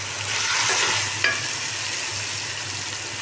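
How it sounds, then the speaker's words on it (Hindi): Onions and chicken karahi frying in a wok give a steady, close sizzle with a brief stirring scrape partway through, and no one speaks. "देखिए माशाल्लाह से कितनी प्यारी भुनाई हो रही है इसकी"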